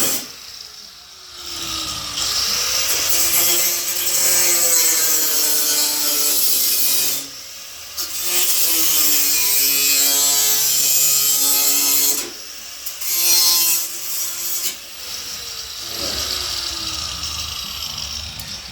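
A power tool, likely a cutoff wheel, cuts through the lower sheet metal of a 1951 Ford sedan passenger door, giving a loud, close, continuous shrieking whine whose pitch rises and falls under load, with brief pauses between cuts and no talking.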